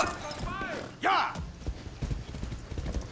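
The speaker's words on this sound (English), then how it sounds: "That's a good horse." Horse hooves clip-clop in the video game Far Cry 6, a quick uneven run of soft thuds under a brief whinny-like cry and a voice, fairly quiet and close.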